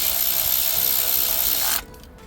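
Ratchet wrench driving in the bolt of a camshaft sensor on a Mercedes M276 V6 engine, a close, steady run of fast clicks for under two seconds before it stops.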